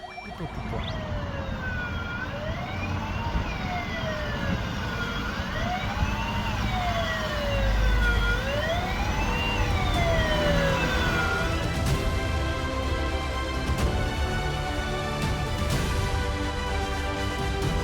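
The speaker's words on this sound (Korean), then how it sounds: "소방차가 출동 중에 오니 잠시 멈춰주시기 바랍니다" A wailing fire truck siren sweeps up and down continuously during a fire engine operation drill, loud and steady over a low rumble of traffic, with no voices.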